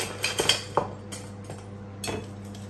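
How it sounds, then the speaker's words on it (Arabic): A utensil clinks against a bowl while sugar is mixed into brownie batter: a few sharp, irregular metallic taps, then a quieter pause and another clink, all close by in a quiet kitchen. "غادي نزيد عليه 100 غرام ديال السكر سنيده، وغادي نحاول نخلطهم مزيان"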